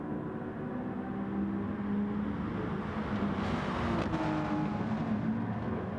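Race cars running side by side through a turn at the Red Bull Ring in Gran Turismo Sport, engines droning steadily at a moderate level with a brief rise as they pass, no talk over it.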